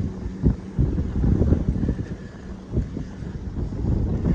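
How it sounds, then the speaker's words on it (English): Steady low rumbling wind from the north, about 25 to 30 gusts, buffeting the microphone outdoors on a cold morning, with gusty swells and no speech. "Winds blowing out of the north, probably about 25, maybe 30 gusts"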